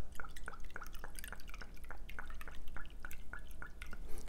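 Citrus-flavored liquor from a brand-new, large bottle of Sky Infusions Citrus is poured for a cocktail, producing a steady run of rhythmic glugging drips, moderately close and clear, with no talking.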